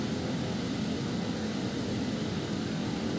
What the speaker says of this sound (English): let's try the Airbus A380